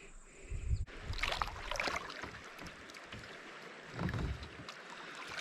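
A kayak paddle dips and pulls through calm water at a lakeside campground, with soft splashes and gurgles close by and light wind noise across the microphone.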